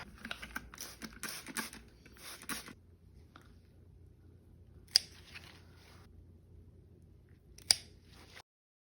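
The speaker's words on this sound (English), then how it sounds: "Now that these roots are shorter, I don't want it to have to work as hard, so I'm going to cut some of this off." Scissors snip away rotted roots from a houseplant during root-rot treatment: a quick cluster of close, crisp cuts in the first few seconds, then a quieter stretch broken by two sharp isolated snips.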